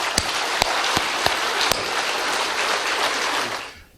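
An audience applauding at a lecture given at the National Assembly, a broad, loud crackle of clapping with a few sharp claps standing out, which fades away at the end.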